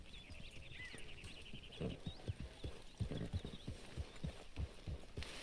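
Horse hooves in Red Dead Redemption 2 clip-clopping at a walking gait, a steady rhythm of soft thuds close by, quiet, with birdsong above.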